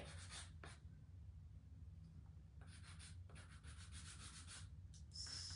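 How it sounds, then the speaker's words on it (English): A fingernail file rubbed over a wooden winter tray to distress it, giving soft, quiet scraping strokes in short bursts with gaps between them, close by. "the easiest way I find to distress these is to take the fingernail file"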